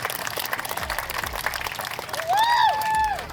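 Crowd applause for the Post Performance diesel truck team at a drag, dyno and sled pull event, brisk clapping under an announcer's voice, joined near the end by a loud rising and falling whistle-like tone.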